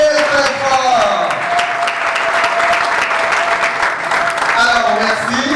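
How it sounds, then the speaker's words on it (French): Loud, sustained clapping from the audience at a ceremony launching a women's and youth movement, filling the room for over five seconds, with a few raised voices and whoops riding over the steady applause. "veuillez m'y applaudir très fort"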